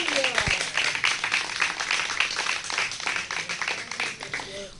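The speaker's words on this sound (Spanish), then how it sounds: "Si siente aplaudir, apláudele fuerte." A church congregation breaks into steady, dense clapping that continues throughout, heard at moderate distance with a roomy, reverberant quality.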